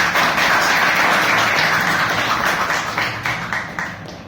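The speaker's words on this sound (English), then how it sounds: "A big round of applause" A meeting audience at a Toastmasters club gives a round of applause, a dense burst of clapping that holds steady and then thins out and fades toward the end.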